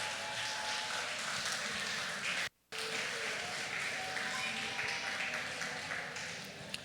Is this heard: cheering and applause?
yes